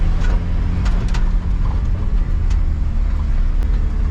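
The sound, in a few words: Chevrolet C20 truck engine running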